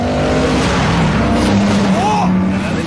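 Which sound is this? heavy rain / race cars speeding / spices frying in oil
race cars speeding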